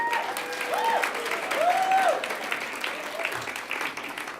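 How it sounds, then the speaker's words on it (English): An audience at a student course reps awards ceremony claps for a sponsor, a full, steady round of applause with a few whoops and whistles rising above it. "can I have an initial round of applause for JP Morgan"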